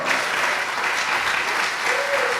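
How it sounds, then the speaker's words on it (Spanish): A church congregation breaks into steady, loud applause during a worship service, a dense wash of clapping hands that holds evenly throughout. "denle un aplauso al Señor"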